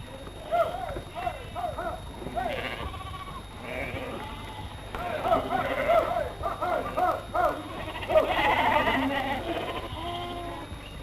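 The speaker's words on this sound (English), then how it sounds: "The sheep are pushed along the race to the drafting gate" Sheep bleat repeatedly and loudly while being pushed along a race toward a drafting gate on a sheep property, overlapping calls from a close flock with faint hoof clatter and a voice speaking over them.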